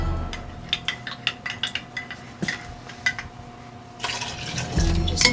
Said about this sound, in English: And I'm going to put in some cold water.